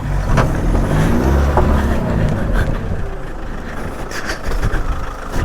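An off-road car in a rain forest challenge rumbles with a loud, close engine drone while front and rear winches pull it sideways, the revving rising and falling over steady background noise.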